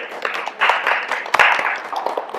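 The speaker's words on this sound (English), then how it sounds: "Everybody give a round of applause for Angel" Audience applause at a reunion show, a short burst of dense clapping from a modest group that swells and fades, with no talk over it.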